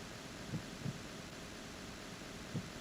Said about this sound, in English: we can hear her heartbeat.